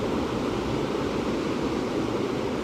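Ocean waves played as a built-in iPhone background sound, a steady, soft wash of surf noise at moderate level with no breaks.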